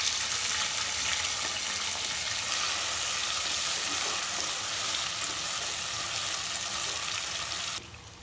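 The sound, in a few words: tomatoes and chilies frying in a pan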